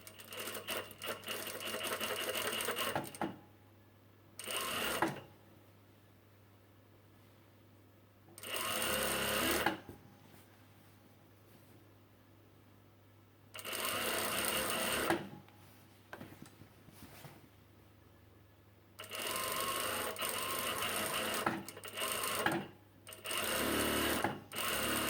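A sewing machine stitches the hem of a plain poncho in several close, steady bursts of whirring needle action, separated by short quiet pauses.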